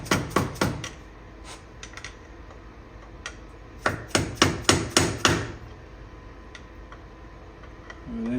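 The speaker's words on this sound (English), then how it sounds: "we're bending the tabs away from these inner primary bolts" Metal lock tabs are knocked away from the inner primary bolts on an 80s Harley Ultra Classic, giving sharp hammer-like taps struck in quick runs of several blows, with pauses and lighter clicks between.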